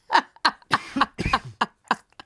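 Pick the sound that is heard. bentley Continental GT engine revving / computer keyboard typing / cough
cough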